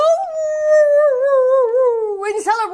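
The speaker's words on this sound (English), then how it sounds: "All the wolves were impressed too, as they howled" Wolves howl in celebration at a spooky vampire awards event, one long sustained wavering howl that slides slowly downward, loud and close, with other yips and voices joining briefly near the end.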